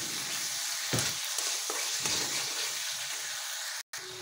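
Ground spices and melted tomato sauté in a pan with salt, giving a continuous close sizzle with soft stirring scrapes throughout, broken by one brief dropout near the end.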